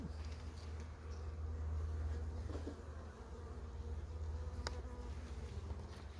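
A wasp buzzes continuously and close by during a beehive inspection over a brood frame full of eggs. The drone is steady and moderately loud, with no talking.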